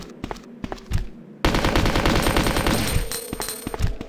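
Gunfire in the Resident Evil 2 Deep Freeze mod starts as a few separate loud shots, then turns into sustained rapid automatic fire that rattles on without pause, close and dominant.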